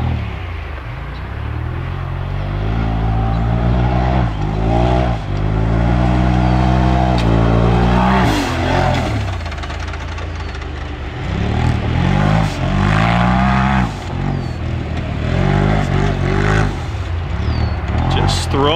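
Polaris Pro XP race car fitted with a muffler accelerating around a short dirt course, its engine loud and close with rising and falling revs through gear changes and throttle blips, while someone talks over it throughout.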